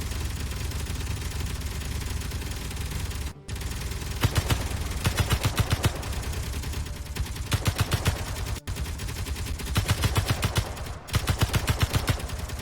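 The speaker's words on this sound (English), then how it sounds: "Turret's firing. Both firing." Turrets in the Space Engineers video game fire in rapid automatic bursts, loud and close, with rattling volleys repeating over several seconds above a constant engine-like hum.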